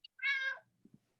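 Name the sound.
cat meowing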